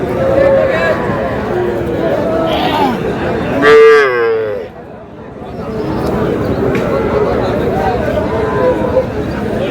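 Young bull calves moo at Ambari cattle market, one drawn-out call rising clearly above a steady din of crowd chatter and bargaining voices.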